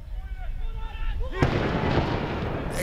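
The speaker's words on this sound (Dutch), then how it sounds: "De explosie in de Moddermanstraat in Schiebroek is ook bij Leonidas goed te horen." A distant explosion from the Moddermanstraat in Schiebroek booms across an outdoor football ground during a Leonidas match: one sharp, broadband blast that leaves a rumbling tail over steady crowd and field noise.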